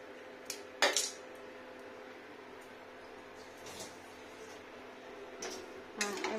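Kitchen knife trimming black spots off boiled elephant foot yam, a few faint, brief scrapes and clinks against a pot or plate in a quiet kitchen.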